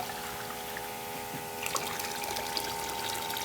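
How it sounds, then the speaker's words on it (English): A 12-volt bilge pump running off a small lawn battery, moving water with a faint steady motor whine and a trickle of flowing water that grows slightly busier partway through. "We have the 12-volt bilge pump connected, and it runs off this little lawn battery."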